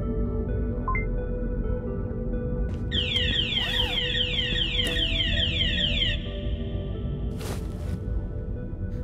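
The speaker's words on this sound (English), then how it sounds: "Sorry for the alarm." A repeating electronic alarm in the video game Ghosts of Tabor, a rapid series of rising, warbling beeps that cycles for a few seconds over steady background noise of game ambience.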